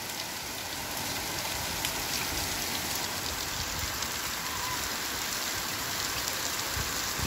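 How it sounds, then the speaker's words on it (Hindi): Heavy rain pours down steadily during a monsoon downpour in Uttarakhand, a dense, continuous hiss of drops on surfaces with no talk over it. "गाइस बारिश देखो कितनी खतरनाक हो रही है।"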